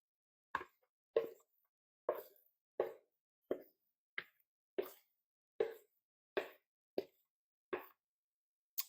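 Chicken pot pie filling is scraped into a pie crust, a series of about a dozen soft, wet plops and scrapes at an uneven, unhurried pace, close and quiet.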